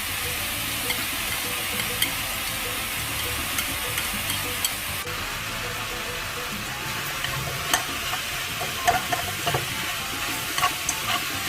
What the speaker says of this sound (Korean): 고기의 겉면이 익으면 손질한 야채와 대파 반을 넣고 볶아주세요.